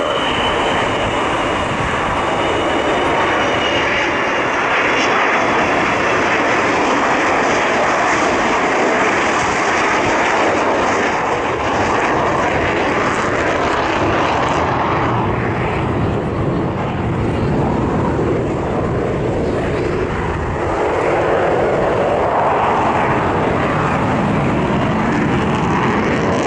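The Avro Vulcan bomber XH558 roars overhead with a loud, continuous jet-engine rumble and broad rushing noise that swells and shifts over nearly half a minute, with no voices.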